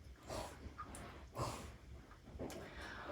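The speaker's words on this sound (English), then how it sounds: "my medium poodle apparently trying to dig a hole through my rug" Faint scratching and scuffling comes in short bursts, with soft snuffling breaths, as a medium poodle paws and digs at a rug nearby.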